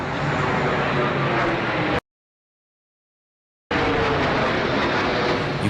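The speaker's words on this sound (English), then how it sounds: "everybody started to hear a strange sound, almost like a jet engine soaring" A jet engine roars loud and steady above a broadband rumble, cutting out into dead silence partway through before the same roar returns at full strength.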